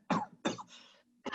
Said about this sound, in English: Pete coughs and clutches at his throat.